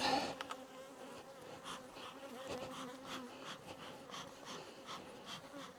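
Honey bees buzz around their hive in a constant close drone, with louder passes as individual bees fly near and away, and no one speaking.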